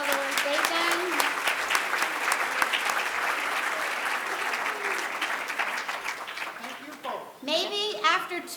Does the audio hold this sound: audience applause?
yes